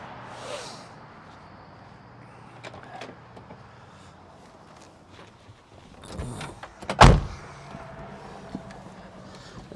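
An old squarebody truck's door clunks shut around the middle, preceded by soft shuffling and creaks of someone climbing in, with a quiet interior otherwise.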